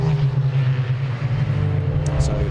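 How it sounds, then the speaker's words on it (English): Touring race cars circulating at Donington Park during a BRSCC TCR race weekend, a steady loud engine drone with sustained low rumble throughout. "You'll see the touring cars fly off into the distance, and the VW Cup cars will certainly want to put on a show themselves."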